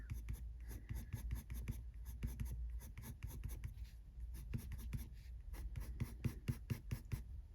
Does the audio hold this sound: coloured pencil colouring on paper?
yes